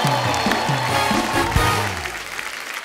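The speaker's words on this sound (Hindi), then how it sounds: "तालियां बजती रहनी चाहिए।" Clapping from a studio audience on a television comedy show carries on steadily over a thumping, rhythmic musical beat, then tapers off slightly toward the end.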